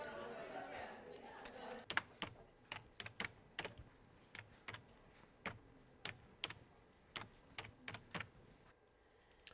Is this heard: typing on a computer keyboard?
yes